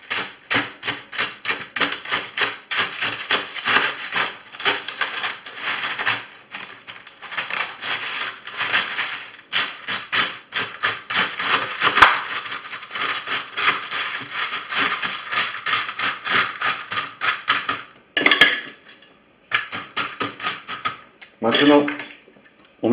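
Crushed ice and salt are mixed in a container, making a steady, gritty rattle and scraping that runs in rapid strokes throughout, with brief pauses near the end.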